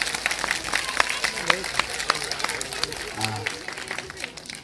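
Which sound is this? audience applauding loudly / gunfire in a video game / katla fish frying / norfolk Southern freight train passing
audience applauding loudly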